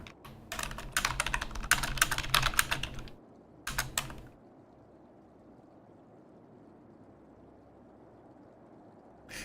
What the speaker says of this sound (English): I'll type it here